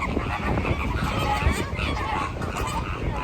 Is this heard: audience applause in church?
no